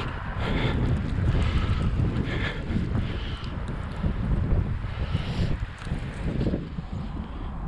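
Wind buffets the microphone on a wet, blustery winter mountain bike ride on an On One Bootzipper, a continuous rough rumble with gusty swells throughout.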